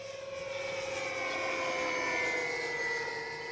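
An RC model Twin Otter airplane, an Avios twin-engine model, flies at full speed into the wind, its steady engine drone holding loud and close for the whole stretch, with a sustained whine that rises slightly and then eases.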